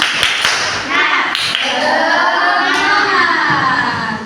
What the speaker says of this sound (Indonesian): Sekarang kita tepuk semangat dulu. Tepuk semangat.